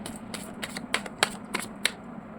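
Tarot cards being shuffled in a quiet room, a run of crisp riffling bursts, five or six sharp flicks spaced unevenly across a soft steady background, close and clear with no voices.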